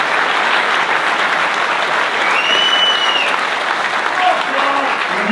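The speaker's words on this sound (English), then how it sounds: "give me a cheer" A comedy club crowd applauds and cheers in a loud, continuous wash of clapping, with a few whistles and shouts rising above it, while a voice talks faintly underneath.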